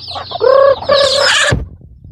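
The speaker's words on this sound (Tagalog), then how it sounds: "Yan yung alaga nating manok mga ka-farmer. Papakainin natin." Native chickens on a farm clucking while being fed: a close, loud drawn-out call with a couple of tonal notes, then a quieter stretch of faint background scratching.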